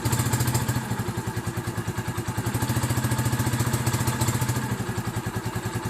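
Engine idling after a cold start with no choke, a steady rapid chugging pulse that holds nearly even throughout with only a slight swell, close and alone.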